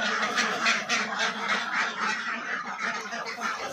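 A flock of ducks quacks continuously and loudly at close range, a dense overlapping chorus of harsh repeated calls with no pauses.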